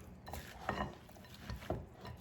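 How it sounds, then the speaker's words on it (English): A spoon stirs a corn casserole mixture with saltine crackers and milk in a sprayed baking dish, giving soft scraping and clinking strokes at close range with no talking. "Try to stir it really good."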